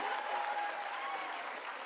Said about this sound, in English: I should request you to clap hands for me